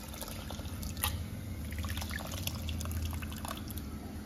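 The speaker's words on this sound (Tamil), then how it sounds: "இப்போ புளி ஊற்றிக்கிறேன்." Tamarind water poured into simmering sambar in a home kitchen gives a steady liquid trickle and drip, faint and continuous over a low background rumble, with no talking.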